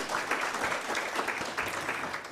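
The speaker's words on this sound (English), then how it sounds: "Another round of applause for Mr. Kuhn" A conference audience at an anti-corruption gathering applauds a speaker, producing a steady, dense wash of clapping that holds evenly throughout without pauses or voices.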